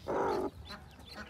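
A hen that hatched ducklings lets out a short, close cluck, followed by faint quieter rustling and soft chirping sounds.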